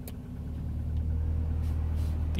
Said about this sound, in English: You can hear the engine change.